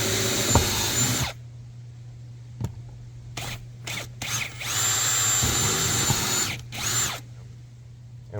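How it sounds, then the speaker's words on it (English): A power drill pre-drills a couple of holes for mounting screws into vinyl siding while installing an exterior light, giving a loud steady whine that stops and restarts in several short bursts. "And I'm going to pre-drill a couple holes for those screws"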